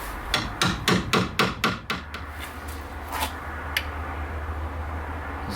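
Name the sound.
moisture meter pins driven into a wooden board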